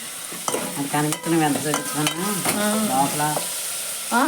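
Onions fry in a pan while being stirred, with loud, close, squeaky scraping strokes of a utensil against the pan in quick runs over a low sizzle.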